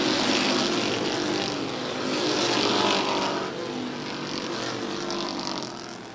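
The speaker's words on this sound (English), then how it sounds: "The 21 goes past, as does the 25. 10 laps to go for Robert Gordon." Race cars roar around Airborne Speedway in Plattsburgh, New York, a loud, continuous engine drone that swells and fades as cars pass during a race, with faint talk mixed in.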